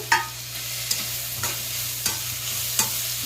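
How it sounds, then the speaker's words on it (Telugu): Capsicum rice being mixed with mint in a pan, with a soft steady sizzle under five or six distinct spoon scrapes spaced roughly half a second apart, close and without talk. "ఒకసారి కలిపేసుకోవాలి"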